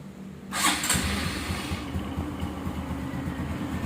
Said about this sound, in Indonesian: Ini mesin sekarang udah nyala.